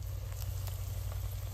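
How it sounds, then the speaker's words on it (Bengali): Shefali flower fritters fry in hot oil in a kadai, giving a steady, faint sizzle with occasional light pops under a constant low hum; no talking. "জাল দিয়ে সুন্দর মচমচা করে ভাজি"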